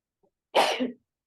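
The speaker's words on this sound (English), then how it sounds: "Bless you." A single short, sharp sneeze burst, close and fairly loud, ending abruptly in silence.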